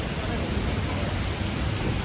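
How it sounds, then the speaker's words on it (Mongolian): Steady rain falls close by, a dense continuous patter on surfaces with a low rumble underneath, unbroken for about two seconds. "Бороо."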